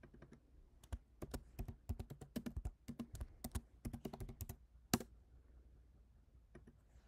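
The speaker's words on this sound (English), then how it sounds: "in cell B1, we are going to type in team 1 score" Typing on a computer keyboard while entering a spreadsheet cell, a quiet, close run of quick, uneven key clicks with one sharper tap near the end.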